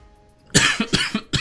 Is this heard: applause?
no